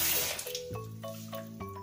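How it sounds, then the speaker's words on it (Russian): Tap water runs into a container to rinse slippery pumpkin seeds of their pulp, with a steady splashing flow and a few brief surges of filling water. "Вот, сейчас налью воды."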